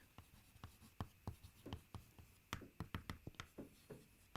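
Handwriting with a pen on paper while noting accounting entries, a quiet close series of quick scratchy strokes and taps in an irregular rhythm.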